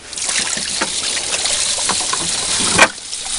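Water rushes steadily through a sluice box carrying fine sand from jig concentrates during gold recovery, a continuous close trickling wash with a brief louder splash near the end.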